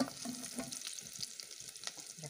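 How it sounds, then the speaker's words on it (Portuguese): Pork fries in a pan with a steady, close sizzle and crackle, with small pops and stirring scrapes over the constant hiss. "Já coloquei a carne pra fritar ali na outra panela."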